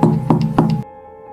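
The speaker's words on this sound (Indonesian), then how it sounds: "3 ketukan pelan di pintu kamarku" Three soft knocks on a bedroom door in an old house, evenly spaced and close, each a dull thud, followed by silence.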